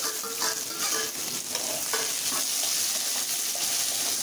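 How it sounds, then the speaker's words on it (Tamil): Garlic, onion and curry leaves sauté in hot oil, giving a steady close sizzle broken by scraping stirs and light crackles, with no talk. "இந்த பூண்டு பூண்டை போட்டுட்டு வெங்காயம் கருவேப்பிலை இதையும் போட்டு அதிலே வதக்கணும்"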